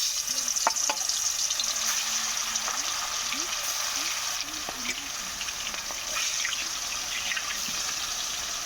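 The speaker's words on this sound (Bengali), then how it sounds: "এবার আমি মাছগুলো দিয়ে দেবো।" Fish rubbed with salt and turmeric fry in hot oil in a kadai, making a continuous, even sizzling hiss that holds steady throughout. A voice talks faintly underneath.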